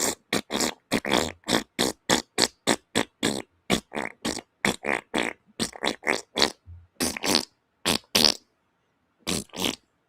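A fast, steady run of loud, close farting noises, dozens of short bursts in rapid succession with brief gaps near the end, alone without talk.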